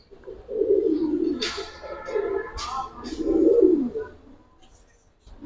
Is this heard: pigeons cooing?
yes